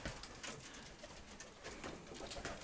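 Pigeons coo softly amid a busy, noisy background of fluttering and rustling, the low calls repeating irregularly throughout.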